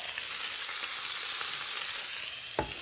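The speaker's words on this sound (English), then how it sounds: "So pop it in, and you want to hear that sizzle as well." Beef pieces sizzle steadily in a hot frying pan while stroganoff is cooked, a continuous close crackling hiss with one brief louder clatter near the end.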